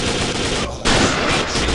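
Sniper rifle headshot in the video game Second Sight: a single loud, sharp gunshot crack with a brief reverberant tail, heard close and without talk.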